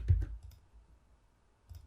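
Two quick keyboard key clicks for a shortcut key in Fusion 360, close and fairly quiet, followed by a near-silent gap and a fainter click at the end.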